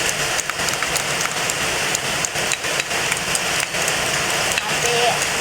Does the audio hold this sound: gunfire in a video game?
no